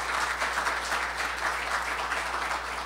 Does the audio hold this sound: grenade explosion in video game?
no